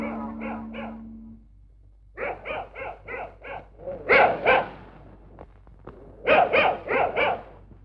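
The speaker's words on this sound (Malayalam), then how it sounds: "പട്ടിയുടെ ധർമ്മം കുറയ്ക്കുക എന്നുള്ളതാണ്." Several dogs bark in short clustered bursts of yips and woofs, fairly close and loud, with pauses between volleys and no talking over them.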